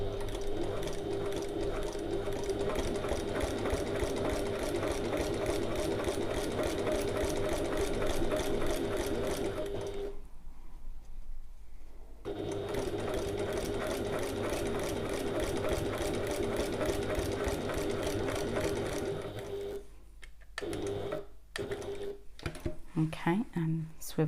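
A sewing machine stitches a passport folio in steady, rapid mechanical bursts, stopping for a couple of seconds at a corner pivot, then resuming before ending in short starts and stops, close up with a voice speaking.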